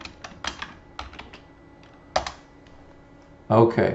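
Someone types a first and last name on a computer keyboard while entering data into a spreadsheet, with short bursts of clicking keys separated by pauses and a louder flurry at the end; a voice speaks briefly.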